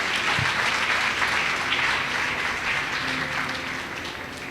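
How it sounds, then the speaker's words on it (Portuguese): A congregation at a church missions congress breaks into sustained applause, a thick roomful of clapping that holds steady and slowly tapers toward the end, with faint low voices beneath. "Dá uma salva de palmas para Jesus"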